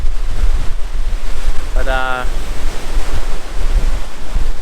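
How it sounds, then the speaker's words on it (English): Large waves breaking on a Lake Superior shoreline at the western tip of Michigan, a steady roaring wash of surf with wind buffeting the microphone, plus a brief tonal sound in the middle and a single spoken word. "the waves are pretty big here too"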